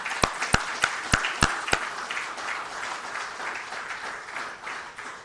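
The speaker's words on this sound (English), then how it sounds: "a rousing round of applause for their success." Applause at a ceremony releasing exam results, opening with a few loud, close, evenly spaced hand claps before a wider, fainter round of clapping from the audience carries on.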